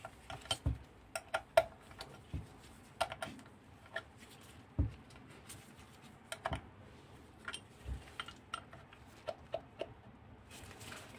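Sparse, irregular clicks and small metallic taps from a wrench tightening 8mm bolts on a Garrett GT1544 turbo for a 1.6 TDCi/HDi engine; quiet, close and spaced out, with no talking.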